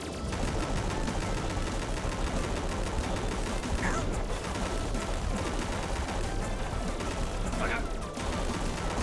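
Dense, continuous rapid gunfire with a steady crackling roar, loud throughout, like automatic weapons in the video game Bakeru.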